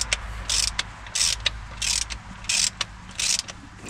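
A power driver runs down bolts in short repeated bursts, each a second or less of whirring ratchet-like mechanical noise, separated by brief gaps and sharp clicks, close to the listener with no voices.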